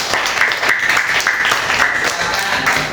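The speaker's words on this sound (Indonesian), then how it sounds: "Oke, tepuk tangan untuk kelompok 2" Students in a classroom applaud a small group after its math presentation, a steady wash of clapping from many hands that stays loud for the full stretch, with a few faint voices mixed in.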